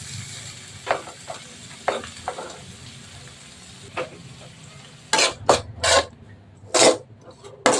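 Cut vegetables and green chilies fry for veg fried rice, with a steady sizzle under repeated scraping stir strokes and metallic pan clatter, loud and close.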